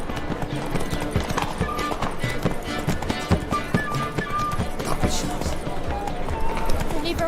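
A horse gallops in The Witcher 3: Wild Hunt, with a steady rhythmic clip-clop of hooves over a game soundscape, moderately loud, and voices speaking over it at times.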